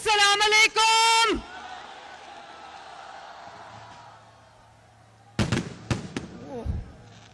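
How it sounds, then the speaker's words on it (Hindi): Firecrackers crack and pop during a PML(N) political rally welcoming a politician in Niaz Baig, Lahore. A loud amplified voice is heard first, then a cluster of sharp close bangs. "यार ये आतिशबाजी बंद करें"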